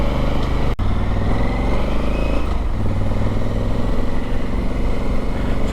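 A Honda Africa Twin adventure motorcycle rolls along a gravel country lane, its engine a steady, loud, continuous drone at close range with a single sharp knock early on.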